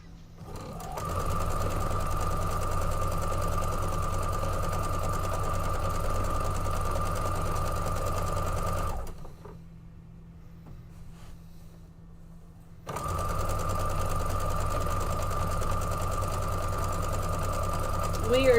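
Sewing machine stitching a quilt border strip: a steady mechanical whir that runs for several seconds, halts for a few seconds of near quiet, then starts up again.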